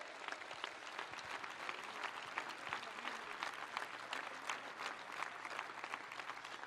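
Audience applauding at Alberto Fernández's political speech in Argentina: dense, sustained clapping from a large crowd, steady and even throughout with no voices above it.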